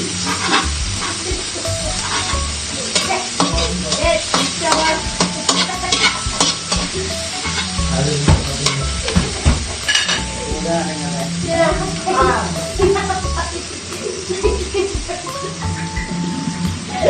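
A spatula scrapes and stirs chop suey in a sizzling pan, with continuous frying hiss, metal clinks and clatter, close and busy throughout while a voice talks intermittently.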